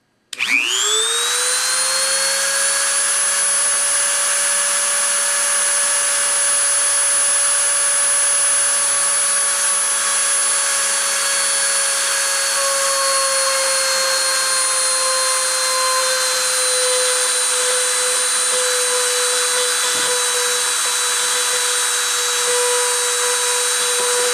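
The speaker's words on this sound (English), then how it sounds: "I'm going to go ahead and turn the spindle on, get us into our startup position" A machine spindle spins up with a rising whine, then holds a loud, steady tonal hum with bright overtones for over twenty seconds, one brief knock near the end, and no talk.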